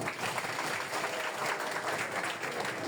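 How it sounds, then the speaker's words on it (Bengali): An audience at a student quiz competition and prize-giving ceremony applauds, a dense, steady wash of many hands clapping together, sustained evenly for a few seconds without pause. "সবাই ওনার জন্য একটু করতালি দাও"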